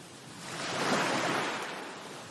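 Small ocean waves wash in on a beach as a broad, swelling rush of surf that builds to a peak and slowly eases off, steady and fairly close, with no voices.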